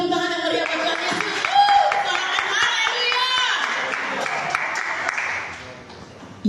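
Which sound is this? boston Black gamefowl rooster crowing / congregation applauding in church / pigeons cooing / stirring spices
congregation applauding in church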